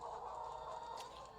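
Chickens infected with H5N1 avian flu at a California poultry site, clucking as a dense continuous flock murmur, close and steady for a brief moment.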